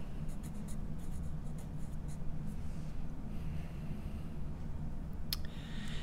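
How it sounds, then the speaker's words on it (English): Pencil or pen scratching across paper as a name is written at a desk during a 2nd/3rd grade art class, steady soft scribbling strokes over low classroom hum. "The first thing I need for you to do down at the bottom of your paper is write"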